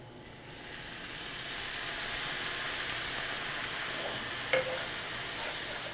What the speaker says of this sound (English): I've added that cider, it starts bubbling, and it cooks off quickly.